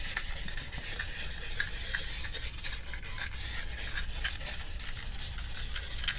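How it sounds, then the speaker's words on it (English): Wet sanding a guitar's finish with 1200-grit paper, using oil as lubricant: a steady, close, continuous rubbing hiss with faint rhythmic strokes, no voices. "sanding it like this with 1200 and using the oil itself as a lubricant"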